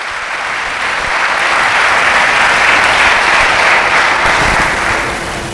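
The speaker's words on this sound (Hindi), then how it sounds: "उसके नाम के लिए जोरदार तालियां।" Loud audience applause at a Christian Mother's Day sermon, a thick sustained roar of many hands clapping that swells in the middle and eases slightly toward the end, with no talk.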